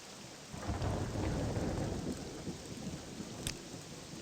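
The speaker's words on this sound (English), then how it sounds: "it be raining and miserable out here" Steady rain pours down in a video game (Morrowind) with a deep rumble of thunder rolling underneath, and a sharp crack breaks through near the end.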